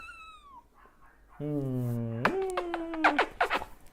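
A cat gives a few complaining meows, a faint one at first and then longer, louder, drawn-out wails close by, with no talk over them.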